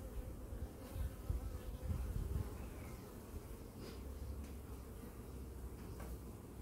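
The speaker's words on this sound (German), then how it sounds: "Da eine Bienentraube." Honeybees buzzing around a cluster inside a hive, a soft, dense, steady hum with occasional closer passes of single bees, fairly quiet and without talk.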